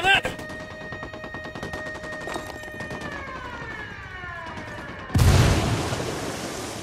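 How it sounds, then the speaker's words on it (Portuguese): Grenade explosion in the Ghost Recon Wildlands video game: a sudden, loud, broadband blast near the end that fades out slowly, following gunfire, a wailing siren-like tone and other game sounds. "Granada! Granada!"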